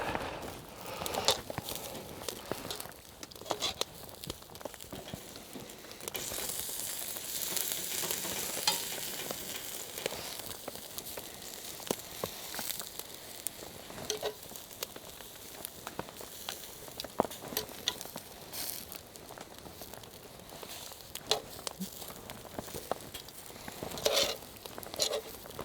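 Birria tacos with doubled tortillas sizzling in a pan over a campfire outdoors, a continuous fizzing crackle throughout, with occasional scrapes, pops and small knocks from handling.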